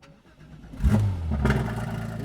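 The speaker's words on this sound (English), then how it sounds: "Let's go ahead and start it up and go for our first drive." A Porsche GT3 RS with a 4.5-liter engine and custom exhaust starts up, the starter catching into a loud, deep bark that settles into a steady, rumbling idle close by.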